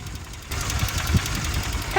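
A motorbike engine idles in Leh, Ladakh, before a ride, giving a short, close, rough and steady putter with a slight knocking pulse.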